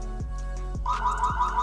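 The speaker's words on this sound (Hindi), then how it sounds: "मेरी मूवमेंट के ऊपर ये साउंड यहाँ पर कर रहा है" A rising electronic motion-detection warning siren from a CP Plus E28A wifi security camera starts partway through, loud and shrill, over repeated low swooping tones and a steady hum.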